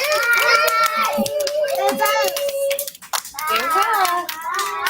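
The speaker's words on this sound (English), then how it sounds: "everybody clap away" Children clap at a book festival amid lively kids' voices and shouts, sharp claps scattered through nearly continuous chatter, with a brief lull midway.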